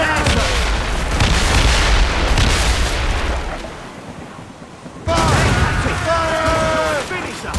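Naval cannons boom from sailing ships in a sea battle in Assassin's Creed Rogue, heavy loud volleys rolling together, a pause, then another burst with shouted voices over the gunfire.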